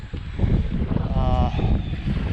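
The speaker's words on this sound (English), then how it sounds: "But yeah, really windy" Strong wind at Echo Bay, Nevada buffets the microphone with continuous low roaring gusts, loud and close throughout.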